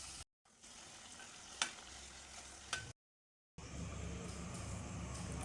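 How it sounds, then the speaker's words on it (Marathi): Khoya karanji, sweet filled dumplings, fry in hot oil with a continuous close sizzle, cut by two short silent gaps and a couple of brief clinks. No one speaks. "करंजीला तेलात फ्राय होऊ द्यायची."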